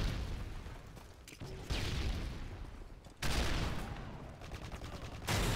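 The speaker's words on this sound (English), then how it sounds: "Rocket launcher!" Heavy booming weapon fire in Call of Duty MW3, a rocket launcher among dense, loud blasts and gunfire that recur in waves across the few seconds.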